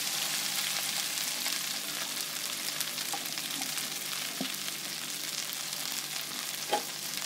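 Okra (bhindi) fries in ghee or oil in a pan, giving a continuous soft sizzle and crackle with a few faint stirring clicks, heard alone and fairly quiet throughout.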